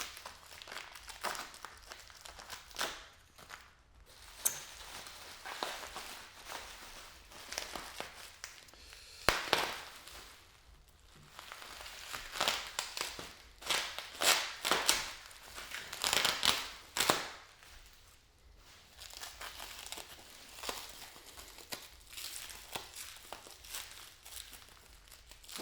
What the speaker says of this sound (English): Hate to take the knife to this tight black plastic wrap